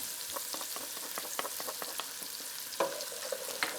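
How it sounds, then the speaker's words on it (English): Garlic added to a pan with broccoli rabe for orecchiette with sausage, frying with a close, steady hiss and crackle punctuated by a few sharper pops and stirring taps. "Now let me add my garlic."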